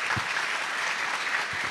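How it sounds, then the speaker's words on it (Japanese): An audience at a Kanazawa University forum applauds in a steady, fairly faint wash of clapping that holds evenly throughout with no voices. "金沢大学に今一度大きな拍手をお願いいたします"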